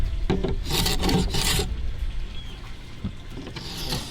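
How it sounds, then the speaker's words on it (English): A scraper rasps across the varnished wooden top, with a few strokes in quick succession near the start, then quieter rubbing and a last stroke or two near the end, close and alone. "I'm gonna give this top a light scrape too."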